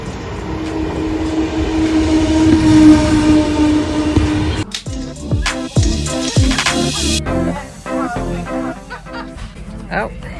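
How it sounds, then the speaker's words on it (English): A train rumbles into the station at Roskilde, Denmark, loudly with wheel clatter and brake hiss, then the noise breaks into choppy station sounds and muffled chatter as it slows. "Looks like our train is coming."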